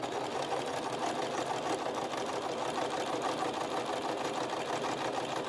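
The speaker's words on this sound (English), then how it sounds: "So I'm going to stitch this here." A sewing machine stitches a journal cover in a fast, steady mechanical whir of needle strokes, close but fairly quiet and continuous, with no talking.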